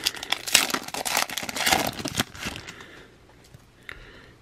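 A 2017 Topps baseball card pack wrapper is torn open and crinkled up close, a burst of crackly foil rustling for about two seconds before fading to a few soft rustles.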